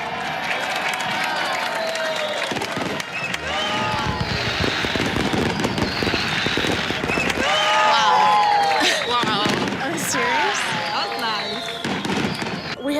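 Fireworks burst repeatedly at a wedding celebration just after the glass is broken, crackling and popping continuously beneath a loud, cheering crowd and talking voices throughout.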